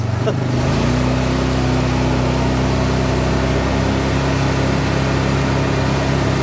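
Mahindra Retriever 750 UTV on Bighorn tires running in low range, a steady loud engine drone with a constant low hum throughout, no clear rise in revs.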